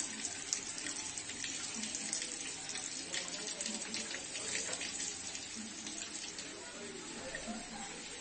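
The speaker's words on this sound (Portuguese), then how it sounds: "Agora vai fechar a torneira." A tap runs steadily during hand washing, the water hissing and splashing continuously into a sink under faint background voices.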